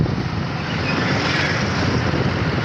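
Wind rushes over the sea at Yanam bridge, a loud, steady broadband roar of wind and waves close to the microphone.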